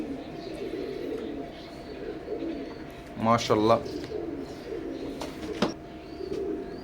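Imported Oman-bloodline teddy pigeons coo softly and repeatedly nearby, while a voice briefly speaks over them midway.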